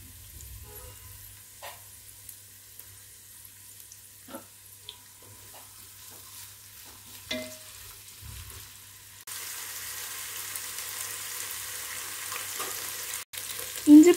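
Onions lightly sauteed in a pan get ginger garlic paste added for a chicken curry. Faint scattered clicks of stirring come first, then a steady soft sizzle rises and holds, ending on a few louder knocks.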